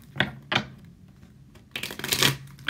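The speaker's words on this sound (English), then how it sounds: "One more shuffle." Tarot cards are shuffled up close: two quick riffling bursts, a short pause, then a longer, denser flurry of papery flicking.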